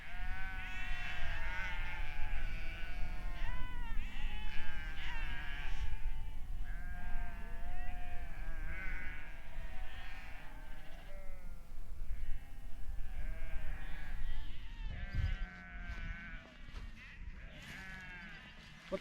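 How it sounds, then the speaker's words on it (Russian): Sheep bleat in a loud, overlapping chorus close by at an evening mountain camp near Elbrus, with steady wavering calls throughout and no talk. "Вот мы попали на вечернюю серенаду овечью."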